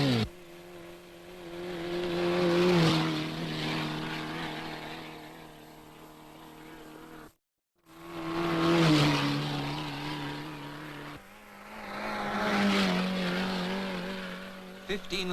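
A 1951 MG racing car built by Abingdon engineers laps a 10-mile circuit at about 5,400 rpm on a one-hour record attempt; its engine drones and swells as it passes repeatedly, with a voice talking over it.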